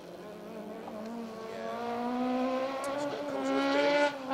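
A Ford Escort Cosworth rally car on a Welsh forest stage approaches from a distance. The engine note climbs and grows louder over a few seconds, buzzing through the gears, then briefly drops off.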